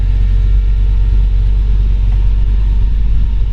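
Engine of a 1928 Dodge Brothers 3W coupe runs at a steady low idle, a loud, even, deep rumble with no change in pace and no voices.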